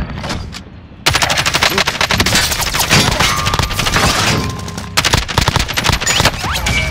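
Dense automatic gunfire and rapid shots rattle through a Call of Duty: Warzone battle, loud and nearly continuous after a quieter opening second, with bursts overlapping in sustained volleys.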